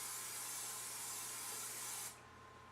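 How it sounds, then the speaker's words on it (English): Pam cooking spray hisses steadily from the can onto a baking pan for about two seconds, close and even, then stops with a faint click, with no talk. "I like to always spray a little Pam"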